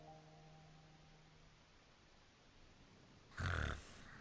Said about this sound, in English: Paimon is fucking snoring.